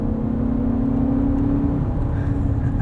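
A 2024 Lexus TX 500h F Sport in manual paddle-shift mode hums from inside the cabin with a steady, moderately loud engine whir whose pitch rises slightly. Any downshift rev blips are not distinct.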